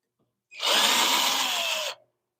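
A power drill runs in reverse to back a screw out at a woodturning lathe bench, one steady loud whir of about a second and a half with a slight pitch drop near the end, alone with no talk.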